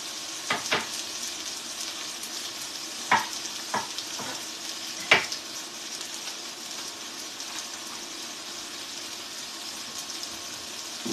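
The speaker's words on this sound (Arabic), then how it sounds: "لازم تقليو البصل" Onions fry in a pan with a quiet, continuous sizzle, broken by a few sharp spatters and light clinks of stirring. No one speaks.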